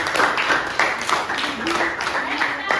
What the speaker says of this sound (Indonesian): Silakan tepuk tangan lagi sekali untuk temannya.